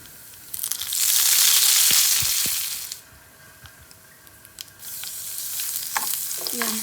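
Curry leaves and crushed garlic hitting hot oil for a tempering for ridge gourd chutney, a loud burst of spattering sizzle that dies down, then a second softer sizzle as the pan is stirred.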